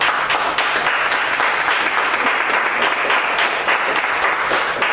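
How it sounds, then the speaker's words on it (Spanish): Steady, strong applause fills a church class gathering, many hands clapping densely and evenly for the full few seconds with no voices over it. "Ese fuerte aplauso, amigo de Dios."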